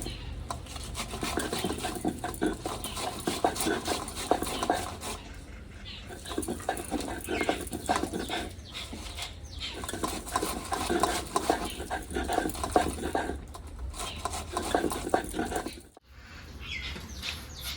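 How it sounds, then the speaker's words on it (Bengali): Soaked masoor dal is ground into a paste in small batches, making close, rhythmic rubbing and scraping strokes that repeat steadily with a few short pauses. "মুসুরির ডালটা আমি বেটে নেব। অল্প অল্প নিয়ে বেটে নেব"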